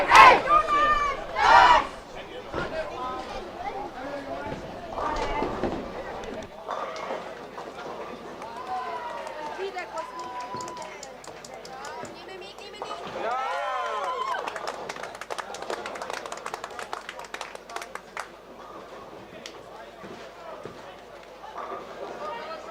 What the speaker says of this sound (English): They're cheering a little bit extra every time they make a strike